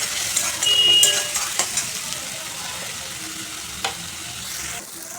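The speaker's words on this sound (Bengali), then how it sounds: "এবং মশলাটাকে আমি ভালো করে কষাবো অল্প আঁচে।" Ground turmeric, coriander, cumin and Kashmiri chilli powder fry on low heat while a spoon stirs them, giving a close, soft sizzle marked by scraping taps against the pan, fading slightly near the end.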